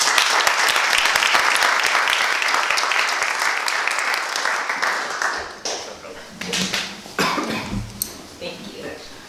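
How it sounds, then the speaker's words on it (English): A live-stream crowd applauds loudly, dense clapping that fades after about five seconds into scattered claps, coughs and throat clearing, with speech mixed in toward the end. "So everyone give him a hand."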